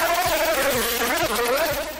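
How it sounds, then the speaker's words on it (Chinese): Film sound effect of a fly buzzing close around someone's ear: a loud, continuous whine that wavers in pitch as it circles, heard alone. "纳尼待在一边也很是愤怒，既然打不了狡诈哥，那就使出苍蝇绝活耳边骚扰术"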